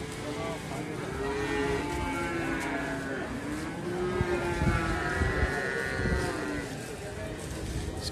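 Simmental cattle, including a white Simmental, low drawn-out moos repeating across the stretch at close range over steady farmyard background noise.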